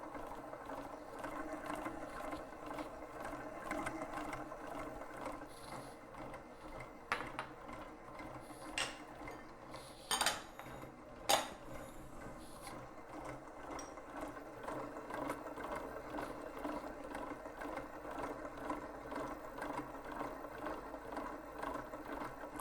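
A stand mixer at speed 6 creams butter and sugar for egg tart dough, giving a faint, steady mechanical whir with a few sharper clicks and rattles midway through, and no voices.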